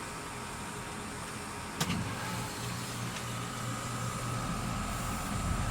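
A pool heater at an inground pool starts up: a sharp click, then a steady low mechanical hum that settles in and keeps running at moderate volume.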